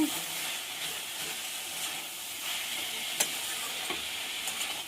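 Bethua greens tossed with vegetables and potatoes in a hot pan give a continuous soft sizzle and stirring scrape, with a few sharper clicks of a utensil against the pan.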